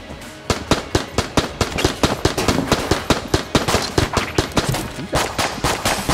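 Rapid gunfire in the video game Enter the Gungeon, a dense string of sharp shots fired in fast bursts that keeps going loudly throughout.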